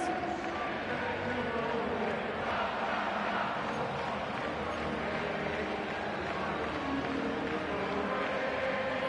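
Dense stadium crowd roar in a Madden 25 football game, a steady loud wash of cheering with no breaks, rallying behind an upset during a Week 10 matchup.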